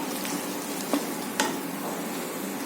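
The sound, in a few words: tempering with asafoetida sizzling and being stirred in pan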